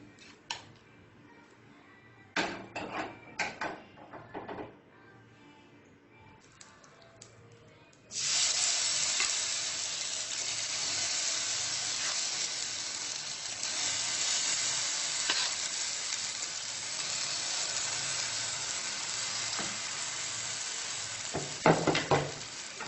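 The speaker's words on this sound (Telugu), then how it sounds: "స్లో ఫ్లేమ్లో టర్న్ చేసుకుంటూ అటు ఇటు కుక్ అయ్యే వరకు ఫ్రై చేసుకోవాలి" Suji veg toast fries in a pan over a slow flame, giving a steady loud sizzle that starts abruptly and continues for many seconds, with a few faint scrapes near the end.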